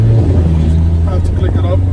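A Tiptronic car's engine and exhaust give a steady low rumble with a deep burble, holding close and loud throughout, with a person talking over it.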